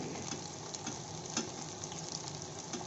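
Potato lollipops fry in oil over a medium flame, giving a steady, soft sizzle with faint crackles and light ticks.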